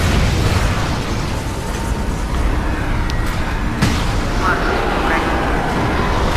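A destroyed cannon blows up in the Crysis shooter game, a loud sustained rumbling blast with crackling debris amid dense game noise throughout.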